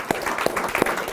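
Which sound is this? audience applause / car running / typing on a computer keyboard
audience applause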